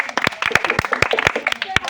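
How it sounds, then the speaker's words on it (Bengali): Hand claps ring out at a steady, fairly quick beat, applauding a village girl who has just thrown balls into a basket at an outdoor contest. Crowd voices and chatter run beneath the clapping throughout. "প্রতিযোগীর জন্য করতালি"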